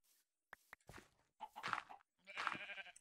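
Sheep in the Minecraft video game bleat in a few short, clear calls, with a couple of soft taps at the start and two longer bleats toward the end.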